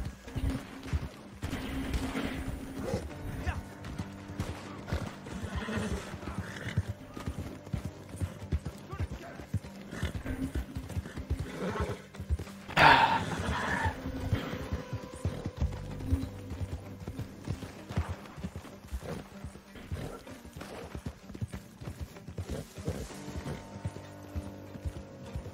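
In Red Dead Redemption 2 Online, a horse gallops with steady, rapid hoofbeats and an occasional neigh, plus scattered distant gunfire. A person talks intermittently over the riding.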